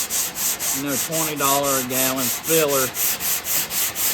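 A sanding block rubs Bondo filler on a C10 truck tailgate in steady, rhythmic back-and-forth strokes, about three per second, while someone talks over the scraping.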